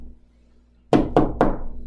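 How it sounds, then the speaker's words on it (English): Three firm knocks on a door come in quick succession after a quiet pause, each a sharp, resonant thud close by, with nothing else heard. "knock on the door"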